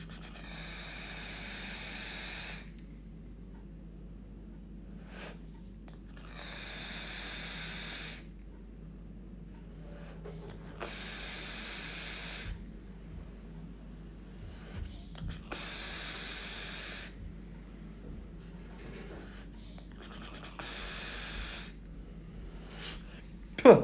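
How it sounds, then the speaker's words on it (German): Someone vapes on a Steam Crave Aromamizer Plus RDTA with Tasty Ohm coils at 95 watts, taking about five long hissing draws, each lasting a couple of seconds, separated by quiet pauses. "ich dampfe jetzt noch einmal, ich bin jetzt auf 95 Watt, habe ich mal jetzt raufgedreht"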